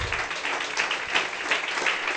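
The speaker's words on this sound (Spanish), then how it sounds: "Dale un fuerte aplauso a Jesús." A church congregation in Lima, Peru claps during a worship service, a steady, dense round of applause that stays loud and even throughout the short stretch with no voices over it.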